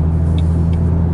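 A car drives along the highway with a steady, loud low engine drone and road hum, under faint high chirps.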